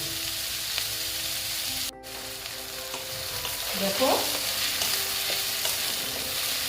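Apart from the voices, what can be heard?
onions frying and being stirred in a pan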